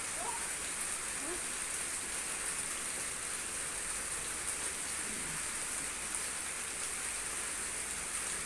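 Steady rain falls outdoors in Thailand, an even, continuous hiss of drops on surfaces at moderate loudness with no clear breaks.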